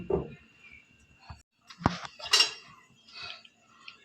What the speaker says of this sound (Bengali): কড়া বসিয়ে দিয়েছি